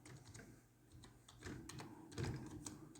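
Keys clatter on a computer keyboard in quick, irregular bursts of close, faint tapping with no talking.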